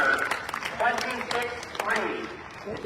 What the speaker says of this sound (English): How about a round of applause for Jeff?